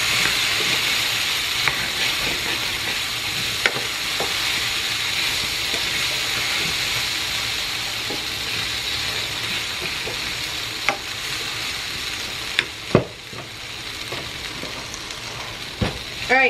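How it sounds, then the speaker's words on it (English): Food sizzling loudly and continuously in a pan, with occasional light scrapes and taps of a stirring utensil that grow sharper toward the end, close up with no voices. "I'm just going to give this a quick little stir"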